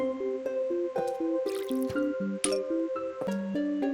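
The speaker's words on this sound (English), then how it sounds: "just want to water the Zen garden like usual" Watering plants in the Zen garden of Plants vs. Zombies gives a steady stream of bright, bubbly pitched drips and watery plinks that step up and down. Sparkly chimes come in now and then, with no talking.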